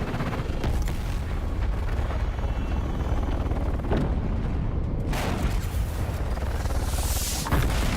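Heavy rumbling explosions and booming blasts from a rocket launcher in the sci-fi survival game Dune Awakening, sustained and loud throughout with a sharp burst near the end.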